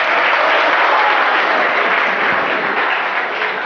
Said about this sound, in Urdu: زبردست تالیاں